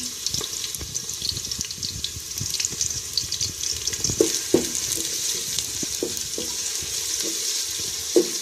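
Onion and garlic frying in a pan for a fava bean and potato curry, with a steady sizzle running throughout and occasional louder stirring clatters toward the end.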